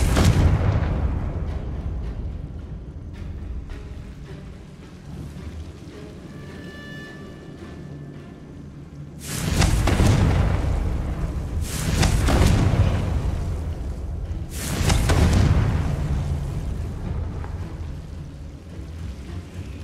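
Confringo fire-blast spells exploding in Hogwarts Legacy, three loud booming blasts a few seconds apart, each with a long rumbling decay, after a quieter stretch of low ambient rumble and a brief tonal chime.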